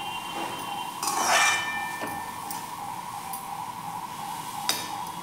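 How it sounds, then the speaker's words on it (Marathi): A lid clinks off a cooking pot and cabbage is stirred inside, giving a few sharp metallic knocks and scrapes over a steady stove hum. "इथे मी हे झाकण काढून घेते आणि व्यवस्थित आपण मिक्स करूया."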